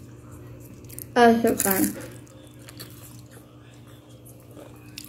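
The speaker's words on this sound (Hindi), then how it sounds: "एयर फ्रायर की चिप्स केचप लगा लगा के" Crunchy air fryer potato chips dipped in ketchup are bitten once, a loud close crunch lasting under a second, followed by quieter chewing under light talk and a low background hum.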